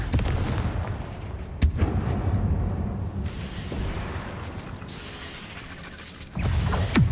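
A Confringo blasting spell in Hogwarts Legacy goes off in sharp booming bursts, a hard crack near the start and a louder blast near the end over low rumbling game ambience.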